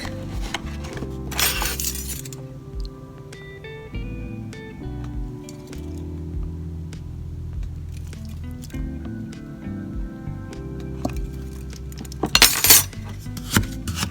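A spoon clinks and scrapes against a bowl while sugar and milk are stirred into a pumpkin bar glaze, giving a series of close, ringing metallic taps with a few louder clatters.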